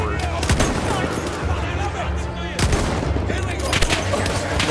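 Old rifles fire in the video game Battlefield 1, a dense wartime battle with repeated sharp shots and booms spread across a noisy mix of distant and nearer gunfire.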